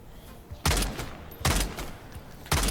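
Three loud, sharp gunshot bursts from a gun in DayZ striking a wooden base wall, spaced roughly a second apart with no talking over them.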